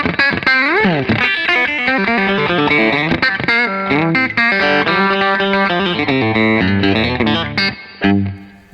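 An electric guitar plays through a Bad Cat Jet Black amp with the reverb turned down, giving distorted, driven single-note runs and chords in a busy, continuous phrase that ends with a short ringing decay.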